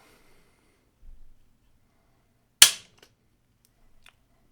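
A single sharp, crisp click from a Tikka T3x Tac A1 left-handed 6.5 Creedmoor rifle trigger breaking during a trigger-weight test, close and isolated in near silence, preceded by a faint low thump.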